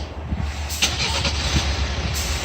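A Hyundai Santa Fe engine fitted with a non-powered turbo cranks and turns over, with a steady motor rumble running throughout, heard from close by.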